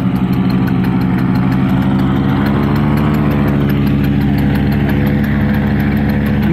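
A Kamphaeng Phet team's RC model airplane engine idles steadily at a sports event in Nakhon Sawan, a continuous buzzing drone with strong harmonics, close and loud throughout with no talking.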